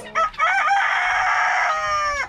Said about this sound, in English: Some of the chickens and we can see a little closer